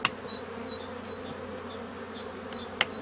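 Honey bees buzz steadily around an open beehive during a floor change, a low continuous hum with a few brief higher whines of individual bees passing close, and two sharp knocks at the start and near the end.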